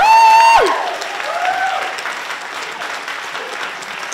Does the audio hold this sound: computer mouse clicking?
no